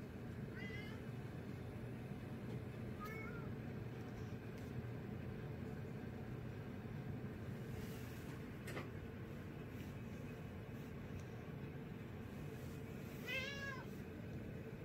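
A kitten gives a few faint, high, wavering meows spread across the stretch, with one near the start, one in the middle and a clearer one near the end, over a steady low indoor rumble and scattered soft knocks.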